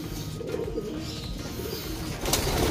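Racing pigeons cooing in a loft, soft low repeated coos close by with light rustling and faint chirps in the background.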